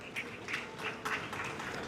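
Scattered applause from an audience at a pear festival launch in Mocho, a broad steady patter of clapping with a few louder bursts, heard from a short distance at a moderate level.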